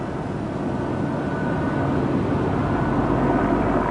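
Helicopters circling above a blindfolded high-wire skywalk event with a crowd below, heard as a steady, broad engine and rotor roar that holds constant throughout, with no talk.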